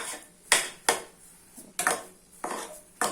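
Semolina being stirred and roasted in a pan for mango halwa, heard as a series of sharp scraping knocks of the spoon against the pan, about six strokes at an uneven pace over quiet background.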